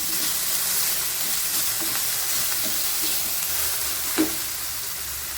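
Onions, curry leaves and green chillies sauté for prawn thokku in a pan, giving a steady close frying hiss with a faint clink near the end.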